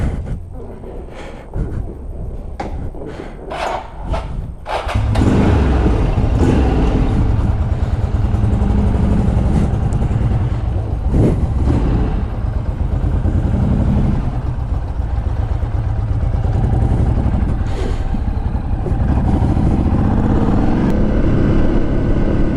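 A twin-engine motorcycle from the past, an obscure make, runs under way on a ride; a few sharp bursts open before the engine noise settles into a loud, steady drone close to the rider.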